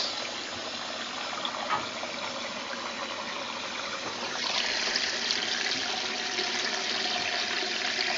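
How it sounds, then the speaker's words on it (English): Cold water runs into a Canadian-made Simplicity twin tub washer for the first rinse, a steady rushing hiss that grows noticeably louder partway through and continues over a low mechanical hum. "on goes the cold water for the first rinse"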